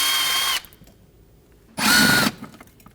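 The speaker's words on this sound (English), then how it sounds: "remove these 2 T30 Torx screws" Cordless power driver backing out T30 Torx screws from the front fender liner of a 2014-2023 Ford Transit Connect, two loud whirring bursts separated by a short pause, close up.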